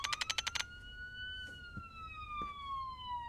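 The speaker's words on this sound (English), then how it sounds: "Faint sirens bleed through the wall." Faint police-style sirens wail in the video game Dead Ringer, muffled as if heard through a wall, their long gliding tones sweeping steadily after a quick burst of sharp pulsing clicks at the start.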